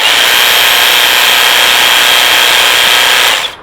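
A commercial battery hedge trimmer rated at 2,800 cuts per minute runs with a loud, steady high-pitched motor buzz, then winds down abruptly at the end.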